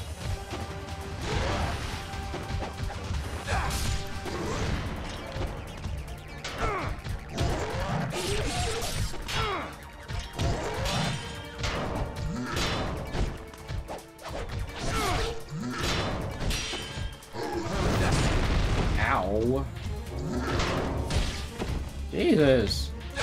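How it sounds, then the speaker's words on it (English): Explosions and heavy impacts sound in the video game Ninja Gaiden Sigma. Loud, dense bursts of crashes and thuds repeat throughout, with whooshes and game music mixed in. "He has an explosion attack?"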